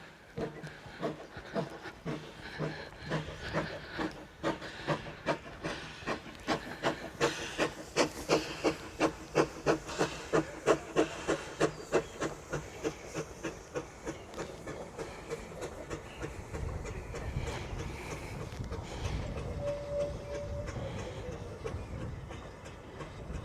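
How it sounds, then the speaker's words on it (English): A mountain railway train chugs with rhythmic puffing beats that swell and then ease into a steady rumble and hiss, with a brief whistle-like tone near the end. "I'm hoping to catch the train before it goes."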